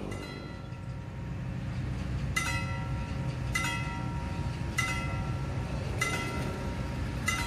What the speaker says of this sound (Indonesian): Jadi ada kereta pertama yang masuk stasiun Wonokromo